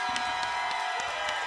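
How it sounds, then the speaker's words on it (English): A large crowd cheers at an outdoor NFL draft event at 6th and Peabody, a dense, continuous roar of voices with shouts and whoops rising and falling, steady and loud throughout. "The crowd here at 6th and Peabody is equally as"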